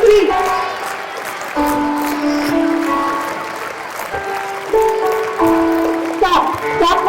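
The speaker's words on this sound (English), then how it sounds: "Let's clap." Schoolchildren at a Children's Day celebration at Mount Carmel School clap together in a rhythmic patter, mixed with children's voices calling out in unison.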